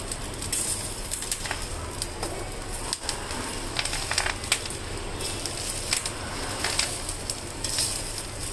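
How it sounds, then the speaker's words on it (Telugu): Fresh green curry leaves frying in plenty of hot oil for a spicy curry-leaf powder, giving a steady close crackling sizzle with scattered sharp pops and spits throughout. "ఇట్లా పచ్చిదే మనం నూనెలో వేయించాలి"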